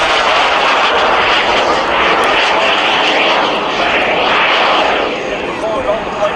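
Mini jet aircraft flying at the Cleveland National Air Show, a loud, sustained engine roar that holds steady and then eases slightly toward the end.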